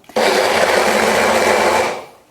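A blender crushes frozen raspberries and chia seeds in a single loud, steady whir of about two seconds that starts abruptly and winds down at the end, with no talk over it.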